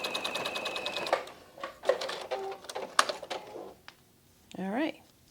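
A sewing machine stitching shut the small opening of a yarn cozy, with short rapid bursts of needle clatter close by, pausing between runs, mixed with talking.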